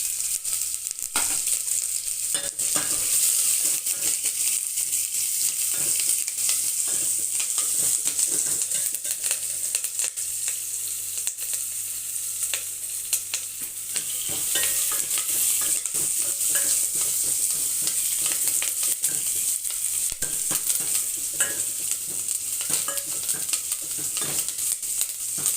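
Garlic, onion, dried red chillies and curry leaves frying with mustard seeds in hot oil for a drumstick sambar, a loud continuous crackling sizzle with spattering pops throughout.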